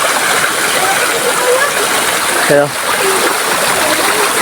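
A mountain stream runs loud and close, a dense steady rush of water with splashing, as someone briefly speaks over it midway.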